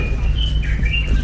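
Birds chirping at Jiufen Old Street in Taiwan, a few thin high calls over a steady low rumble of the surrounding street.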